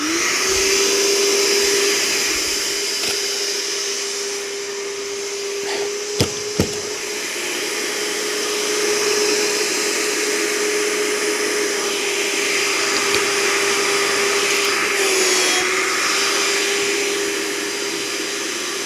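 A SeamerDownNow seaming tool runs a seam as it glues and locks carpet in place, giving a steady, loud motor whine that holds for the whole stretch with a couple of sharp clicks partway through.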